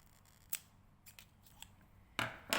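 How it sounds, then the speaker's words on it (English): Scissors snip through a zip that has been taped together at its marked 19 cm length, giving a few sharp, close cuts with a louder double snip near the end and no talking. "And then I'm going to cut that off."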